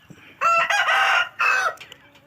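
A rooster crows loudly twice, close by, with chickens clucking faintly underneath and between the calls, at a chicken farm.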